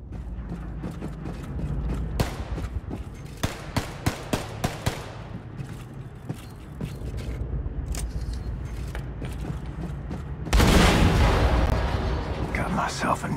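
Gunfire and explosions from the Wolfenstein II: The New Colossus video game crack in a series of sharp, loud bursts, followed by a big blast that swells into a sustained roar near the end, with a voice speaking briefly.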